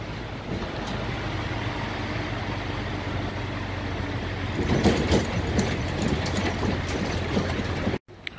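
A train running on rails around Bayeux, France, a steady close rumble and rattle of wheels that grows louder with clattering toward the end, then cuts out sharply, with no talking over it.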